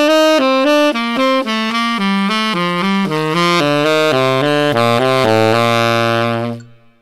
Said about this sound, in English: Here's that second phase, which is playing the major scale in thirds.